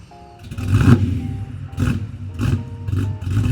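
A 1967 Chevrolet Malibu with a 383 stroker V8 and a 4-speed rumbles at close range, giving a series of loud throttle blips and revs with a deep, lumpy idle between them.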